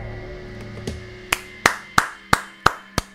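Slow, evenly spaced hand claps, about six sharp single claps roughly a third of a second apart, ring out over a soft sustained musical bed during the ending of the video game Far Cry Primal.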